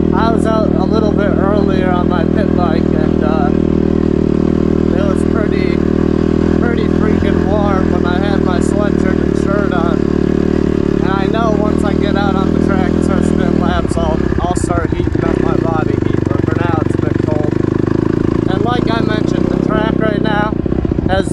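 Honda CRF 150RB dirt bike engine drones steadily throughout a muddy early-spring ride, revving and shifting in pitch midway, with a rider talking over it at close range.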